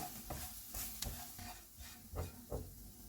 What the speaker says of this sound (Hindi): हाफ़ टी स्पून धनिया पाउडर, नमक हस्बे जायका, 1 सब्ज़ मिर्च। इनको 1 मिनट तक भूनेंगे।